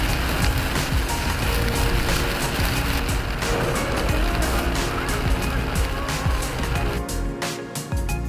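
A car drives along a highway in heavy rain between Hubli and Hosur, with a constant loud road and engine roar inside the cabin, rain noise and faint mechanical ticks, easing slightly near the end.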